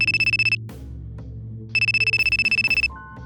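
A mobile phone ringtone sounds in a business meeting, two loud bursts of rapid, bright pulsing electronic chirps separated by a pause, with a low murmur and a short closing tone beneath.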